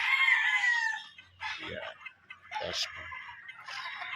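Gamecock broodcock rooster of Gal bloodline on a game farm, crowing loudly and close at the start, followed by shorter calls and clucking sounds from nearby fowl.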